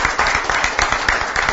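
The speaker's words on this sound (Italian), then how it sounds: "Comunque, un applauso a questa bella maglia." Applause from a crowd at a Gran Fondo Carrera Bike cycling event, greeting a jersey: close, loud clapping with a quick irregular rhythm, brief and continuous throughout.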